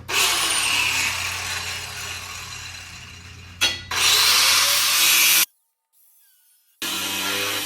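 A power tool grinds and cuts steel while trimming a reinforcement plate for a winch mount on a Jeep Cherokee. The loud, harsh whine runs in close bursts with a brief stop, a longer silent gap, then resumes.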